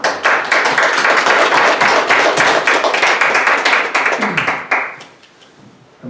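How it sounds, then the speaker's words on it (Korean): A church congregation applauds the preacher after a Sunday sermon, a dense, steady clapping from many hands that carries on for several seconds and then tapers away quickly to near silence. "열심히 준비해 주시고 또 은혜롭게 전해주신 전도사님께 감사의 박수를 한번 올려드립니다."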